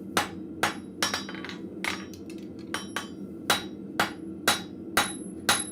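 Steel hammered on an anvil by a blacksmith drawing stock out to a square, a steady series of about a dozen sharp ringing strikes at an even working rhythm, close and clear with no talk.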